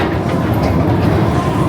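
A Knott's Berry Farm ride train rolls over a rickety old wooden trestle, a steady loud low rumble with faint rhythmic clatter running the whole time, close and continuous.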